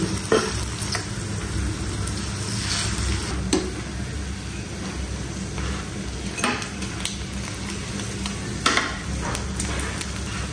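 Jute leaf fritters fry gently on low heat, a steady soft sizzle running throughout with occasional clinks and scrapes of a utensil against the pan.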